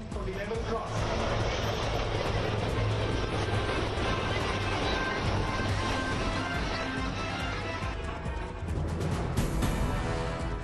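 Helicopters of the Sarang display team fly overhead at the Tarang Shakti air show, a loud, continuous rumbling roar of rotors and engines that swells and shifts throughout, with no voices present.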